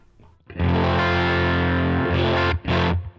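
Distorted electric guitar on the middle pickup, played through a Line 6 HX Stomp amp model, rings out in loud sustained chords that cut off briefly near the end before one more strum.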